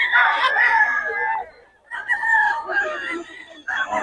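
Roosters crowing among chickens at a poultry sale: two long, loud, close crows with a short gap between them, a third starting at the end, and faint background sound under them.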